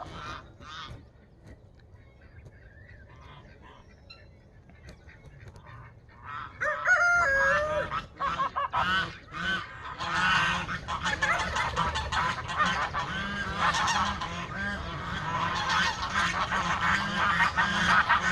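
Geese honk repeatedly in a backyard flock of poultry, with chickens and a crowing rooster mixed in, quiet at first and then loud and busy from mid-clip onward.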